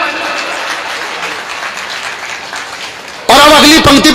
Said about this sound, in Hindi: और तालियां तो अब चाहिए।